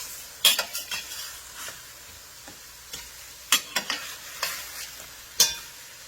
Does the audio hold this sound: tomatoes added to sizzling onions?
yes